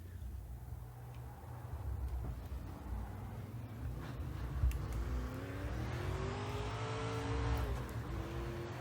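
Winged sprint car engine in the iRacing sim, revving as the throttle is pressed, rising and falling pitch over a steady engine drone, fairly loud and close with no talking.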